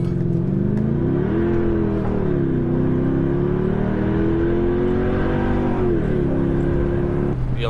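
A Mercedes CLK55 AMG engine drones loudly and steadily, its pitch climbing and dipping as it revs and accelerates, heard close from inside or near the car.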